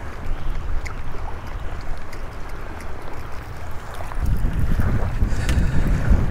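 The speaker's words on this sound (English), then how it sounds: "Wind is picking up." Strong wind buffets the microphone on the shore while bank fishing at Dauphin Island, Alabama. A steady, loud, rumbling roar fills the clip and swells heavier in its second half, with no voices.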